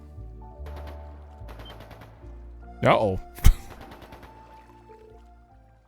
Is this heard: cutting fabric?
no